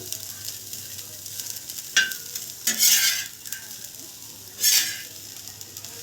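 Ingredients for an adavi karchikayi dish roasting in a pan, with a quiet background broken by several bursts of sizzle and stirring, each lasting under a second, close by.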